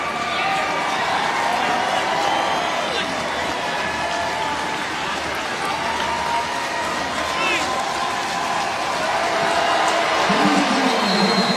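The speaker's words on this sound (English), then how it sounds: "Listen to this crowd." A large lacrosse stadium crowd at the 2019 ACC Championship between Notre Dame and Virginia roars continuously, with cheers, whoops and clapping building slightly toward the end and a voice rising over the noise.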